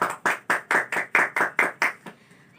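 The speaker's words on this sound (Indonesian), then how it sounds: "Beri aplaus untuk INSI" A classroom claps for a student in a steady burst of about eight sharp, even claps close by, which then stop.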